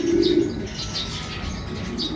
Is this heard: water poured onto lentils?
no